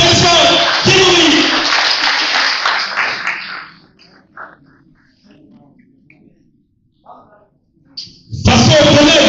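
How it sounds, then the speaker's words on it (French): Audience at a live comedy show breaks into loud applause and cheering that fades away within a few seconds, leaving near silence before another loud burst of clapping and crowd noise rises at the end. "Applaudissements!"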